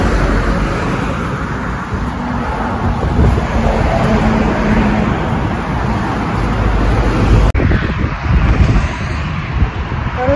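Traffic roars past on a German autoban, heavy continuous road rumble and wind buffeting the microphone, loud and close, with a sharp jolt partway through and no clear talk.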